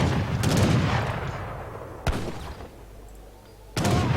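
Musket volleys in a battle in Age of Empires III, a dense burst of crackling gunfire followed by two sharp separate shots, loud and close, with no talking.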